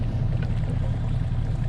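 A sailboat's engine runs while motoring on the Mediterranean in winter, a steady low rumbling drone that stays constant and close throughout.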